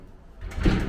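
A heavy prison cell door slides along its track at an old state prison, starting as a low rumble and swelling into a loud, close grinding roll that runs to the end.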